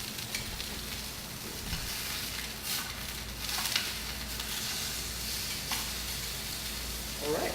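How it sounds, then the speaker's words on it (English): Pork chops pan-searing in a hot pan give a steady, crackling sizzle with occasional sharper pops and spits, fairly quiet and close, carrying on without a break. "that's how you pan sear pork chops"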